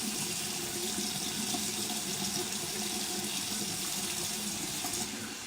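Water runs steadily from a tap into a sink, a constant close splashing rush with no voices.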